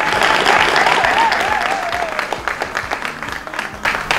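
An audience at a televised French ceremony claps loudly in dense, steady applause for an absent honoree, with a brief whistle-like tone rising over it early on before the clapping thins into scattered claps.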